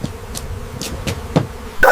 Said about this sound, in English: hundreds of bees were attacking him